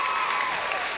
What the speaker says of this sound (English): Clap your hands if you want to see me swallow.